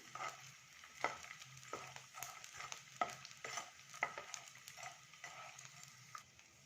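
Edible gum (gond) pieces fry a few at a time in a pan for jaggery dry-fruit laddoos, giving a soft continuous sizzle broken by light stirring clicks and taps, fairly faint and close.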